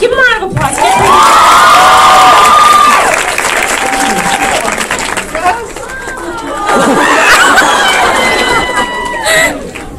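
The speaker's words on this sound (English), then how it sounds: "Give him a round of applause." A live show audience in Syracuse claps and cheers loudly nearby, with shrill whoops and shouting voices rising in waves over the steady applause.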